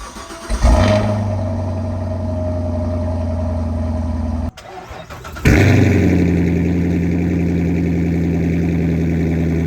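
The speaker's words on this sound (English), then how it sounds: "So you guys are going to get a cold start on the Corvette, the Hellcat, and the Camaro" Cold starts of V8 cars, a Corvette, a Dodge Hellcat and a Camaro. One engine cranks and catches with a loud flare, then settles into a steady idle. After a short gap a second engine starts with a bigger roar before holding a deep rumbling idle.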